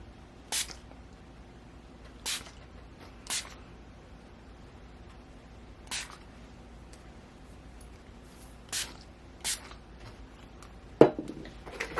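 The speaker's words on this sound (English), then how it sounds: "I'm going to be taking that Calming Makeup Fixing Spray and just spraying that." Several short, separate spritzes of a makeup setting spray bottle, spaced irregularly in a quiet room, each a brief soft hiss, with a small clatter near the end.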